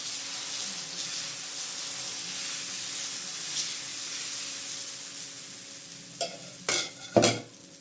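Batter for a drumstick-leaf dosa sizzles on a hot pan, a steady soft hiss with a faint hum, followed near the end by a few sharp scraping knocks.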